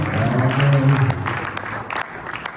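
Congregation applauding during a Christian gathering in Sherbrooke, with a dense wash of clapping and crowd noise under sustained musical tones, loud at first and easing slightly toward the end.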